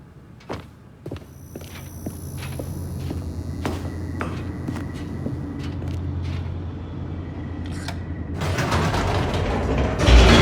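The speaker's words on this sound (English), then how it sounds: "The elevator raced downward, plummeting towards an unknown fate." Elevator descending in the video game The Stanley Parable Ultra Deluxe: a steady mechanical hum with clanks and clicks, building to a louder rumbling rush at the end.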